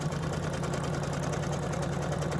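A sewing machine taking an anchoring stitch on a quilt, giving a steady mechanical whir with a low hum that runs continuously and close, without speech.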